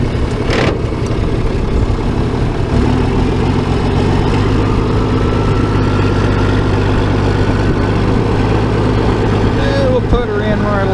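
A Farmall 806 tractor engine runs loud and close in gear while working dirt with a disc, a steady low rumble throughout with a brief knock near the start and near the end.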